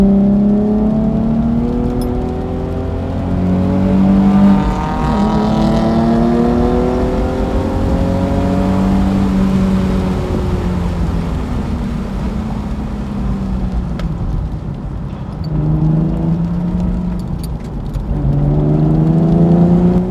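A car lapping a race track during a high-performance driving event, its engine droning steadily and rising and falling in pitch through gear changes, loud and continuous from inside the car.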